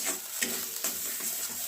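A spoon stirs a mash of bottle gourd leaves with a little sugar being mixed in, giving a close, wet scraping and squelching sound with soft strokes at a steady rhythm.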